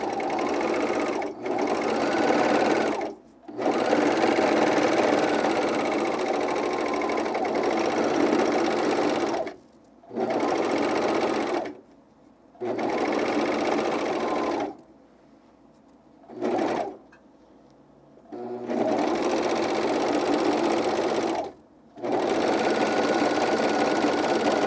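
A sewing machine serges and coverstitches underwear with picot elastic, running in loud bursts of steady whirring separated by short pauses, with no speech.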